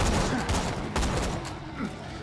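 Rapid gunfire from a weapon in the video game Borderlands 2, a dense burst of overlapping shots loud and continuous throughout, with game noise beneath.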